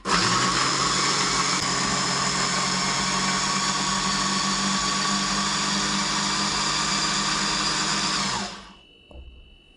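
An electric blender whirs loudly and steadily for about eight seconds as it purées dakous, an Egyptian tomato salad, then winds down quickly to a stop.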